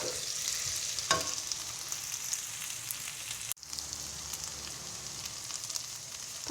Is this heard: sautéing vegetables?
yes